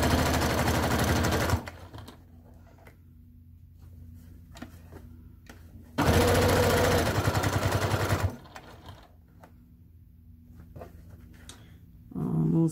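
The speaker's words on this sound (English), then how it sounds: "I'm double stitching, back stitching to put extra stitching." A sewing machine double- and back-stitches a circular fabric travel pouch in two loud, steady bursts of rapid mechanical stitching, separated and followed by quieter pauses.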